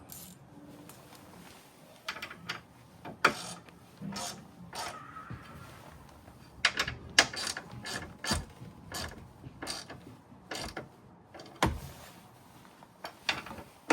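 A wrench ratchets a bolt tight on a lower grille light bar bracket on a Sprinter van, giving quiet, irregular clicking bursts and metallic taps close by, with no talk.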